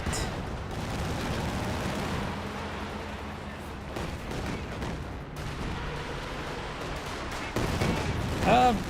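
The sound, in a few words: Katyusha rocket barrage in Company of Heroes 2 video game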